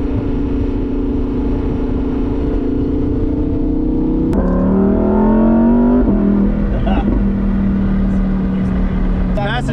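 Ferrari F8 Spider in Corsa mode, engine droning loudly then revving up through rising gear pulls, with a shift around the middle and continuous loud engine noise throughout, no talking.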